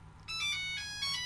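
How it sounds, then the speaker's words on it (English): A phone ringtone playing the Nokia theme, a clear electronic melody of stacked tones that starts after a brief quiet moment and carries on steadily, fairly close and distinct with no talking over it. "my phone's ringing. Can you hear it? That's the Nokia theme"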